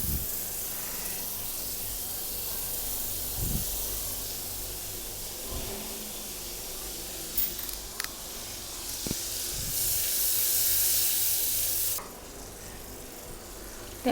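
Butter melting in a hot pan for chana chor garam, a low steady hiss that swells louder midway and drops off sharply near the end, with a few faint knocks and no talking.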